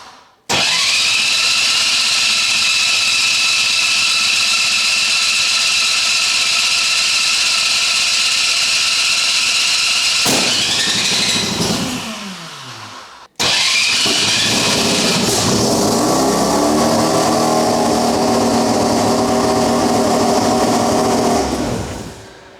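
A loud billet 13B rotary engine cranks and catches, running hard for about ten seconds, cuts out, then fires up again and roars steadily.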